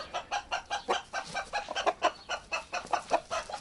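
Chickens clucking with an agitated rooster, a rapid series of loud, close clucks and squawks in an uneven rhythm throughout, with no talking.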